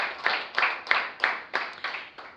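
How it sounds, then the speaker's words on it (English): Audience applause for debate quarterfinalists at a Universal Service Fund versus Judiciary of Jamaica debate, heard as steady rhythmic clapping in roughly seven evenly spaced surges, moderately loud with no voices over it. "Let's give these quarterfinalists another round of applause."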